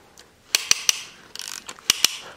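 A piston ring compressor tool being ratcheted tight around piston rings while building a turbo engine, a few sharp metallic clicks and ratcheting bursts, close up with no talk.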